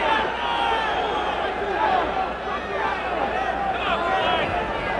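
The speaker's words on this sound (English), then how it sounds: "The crowd immensely enthusiastic, but not immensely knowledgeable." An enthusiastic boxing crowd at a Ray Leonard versus Floyd Mayweather Sr. fight keeps up a steady roar of cheering and babble throughout, loud and continuous, with shouts rising now and then.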